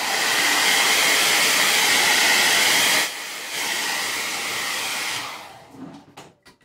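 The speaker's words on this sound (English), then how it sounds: "I'm going to shoot it with the blow dryer for 1 second." A blow dryer drying paint on DIY Christmas decor roars loudly for about three seconds, drops briefly, runs again more softly, then winds down, followed by a few light taps.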